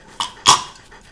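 A dog in the Ju-On: The Grudge horror game for the Wii gives a couple of short, breathy huffs, a soft one followed by a louder, close one, with faint game sounds behind.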